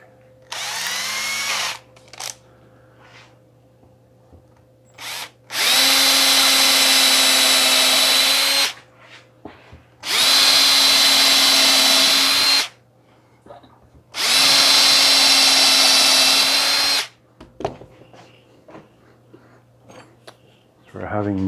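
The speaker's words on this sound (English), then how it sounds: "once I drill this hole out" A power drill bores a hole while a Harbor Freight workbench is being assembled, three long loud bursts of steady whining drilling of about three seconds each, separated by brief pauses with small handling clatter.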